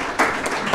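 An audience at a DFCU QuickBanking launch press conference claps for the technical team, a brief burst of applause lasting under a second.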